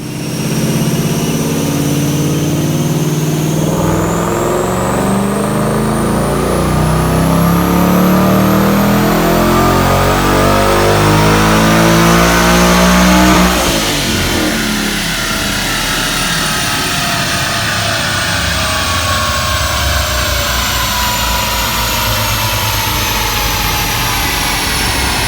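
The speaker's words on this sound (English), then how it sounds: "Check out this dyno pull." A supercharged 2015 Ford Mustang S550 with a centrifugal Paxton supercharger roars on a dyno, engine pitch climbing steadily with a rising supercharger whine for about thirteen seconds, then dropping away as it winds down, loud and close.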